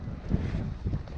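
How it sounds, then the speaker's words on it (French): Wind buffets the microphone on the deck of an Alubat Ovni 370 aluminium sailboat, a steady low rumbling roar with gusty swells throughout, close and fairly loud. "Vous excuserez s'il y a un petit peu de vent."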